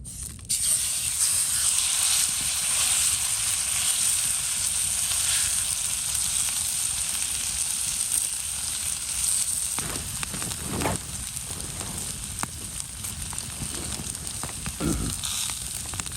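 A big pork steak sizzles steadily in a hot pan, a loud, dense, continuous frying hiss up close, with a few crackles and pops near the end.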